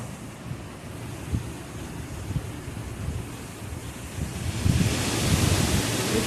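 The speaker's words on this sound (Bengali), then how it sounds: "দেখো আমাদের দিকে কেমন ঝড় উঠেছে।" Storm wind rushes outside in a steady, broad roar with gusty low thumps of buffeting, growing louder and hissier toward the end.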